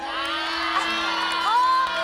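A television comedy show's studio audience cheers and whoops, several voices calling out together in a short, lively, continuous outburst.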